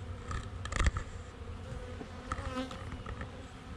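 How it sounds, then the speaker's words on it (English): Honeybees buzz around a hive a week after a swarm was hived, a close, steady insect drone with a few louder passes near the microphone and no talk. "Man, these bees have really been busy."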